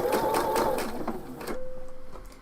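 Sewing machine running a 3/8 inch seam on a shawl, a steady rapid stitching whir that stops partway, followed by a faint high hum and light clicks.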